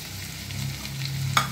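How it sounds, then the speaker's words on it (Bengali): Tomato and cashews fry in a pan with a soft steady sizzle while being stirred, ending in a brief scrape of the utensil. "ভালোভাবে নেড়ে দিলাম টমেটোটা।"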